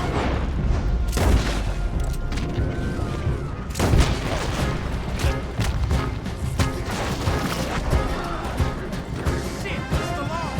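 Gunfire from lawmen in Red Dead Redemption 2 during a road chase, a dense run of booms and cracks with repeated loud impacts over constant action noise, continuing throughout at close range.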